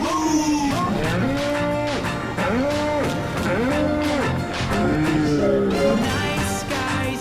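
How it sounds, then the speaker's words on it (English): Cattle moo in a series of loud drawn-out calls, about four rising-and-falling lowing moos one after another, close and clear over steady background noise. "Cows go moo."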